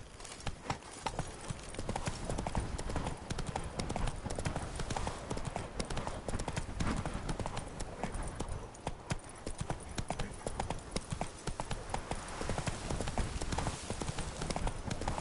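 Rapid galloping hoofbeats from the horse in The Witcher 3 video game drum on without pause in a fast, even rhythm, loud and close throughout.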